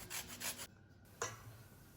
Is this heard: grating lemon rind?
yes